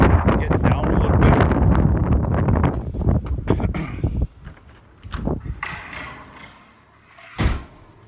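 Strong cold wind blowing across frozen farmland, roaring loudly into the microphone as a dense rumble for about four seconds, then dropping to softer gusts with a brief loud burst near the end.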